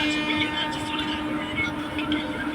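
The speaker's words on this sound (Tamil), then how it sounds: "இப்போ வந்து நான் கிளம்புற ட்ரெயின் வந்துக்கிட்டு இருக்கு" A train rolls into Pallavaram railway station with a steady low rumble and a sustained tonal hum, close and continuous, with people talking faintly in the background.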